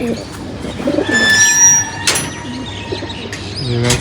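Pigeons in a rooftop loft of about thirty-five birds, some hybrids, coo in repeated soft, throaty phrases close by, with a few brief chirps and a light sliding clatter in the background.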